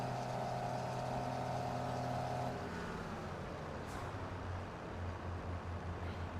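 A 2-wheel-drive tractor engine in Farming Simulator 22 drones steadily at a low, moderate level, with its pitch dropping partway through as it changes speed, with no voices.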